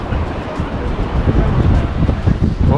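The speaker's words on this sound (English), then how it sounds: "It's windier than the Scottish Highlands in December." Strong wind buffets the microphone at the top of Burj Khalifa in Dubai, a loud continuous low roar with gusting surges throughout.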